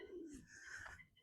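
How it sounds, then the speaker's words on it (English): Pigeons coo faintly outdoors during an early morning walk, a soft low call followed by a higher warbling note, distant and brief. "Pigeons."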